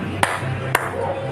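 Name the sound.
hand clapping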